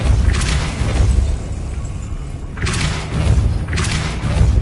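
Depulso spell blasts in Hogwarts Legacy land as loud, deep whooshing booms and thuds, one early and two more close together near the end, with a rumbling low tail between them.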